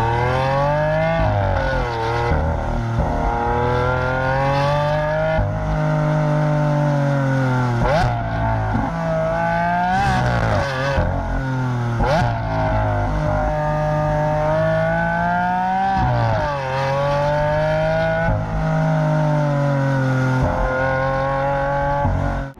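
Lamborghini Aventador SV Roadster with 741 horsepower accelerating hard on an open road, its loud engine revving up through rising sweeps and dropping at gear changes, sustained and close throughout with no talking.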